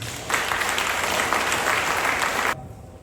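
Wedding guests at a Lun Bawang church ceremony burst into sustained applause, a dense wash of clapping that holds steady for over two seconds and then stops abruptly, leaving a quiet room.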